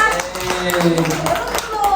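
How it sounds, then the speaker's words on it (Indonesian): Schoolchildren clap for a classmate in a classroom, quick close-up hand claps mixed with young voices talking over them. "tepuk tangan dulu buat Tessa"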